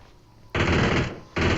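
A DP-28 machine gun fires in PUBG Mobile, two loud sustained bursts of rapid gunfire close by, separated by a short pause.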